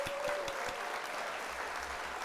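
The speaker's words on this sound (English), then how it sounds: "so let's hit the old applause there." Canned applause effect plays on a livestream during a Gundam model-building session, a steady wash of many hands clapping at moderate level for a couple of seconds with no voices over it.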